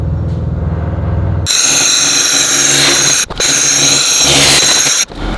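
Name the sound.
XlaserLab X1 Pro laser cleaner removing rust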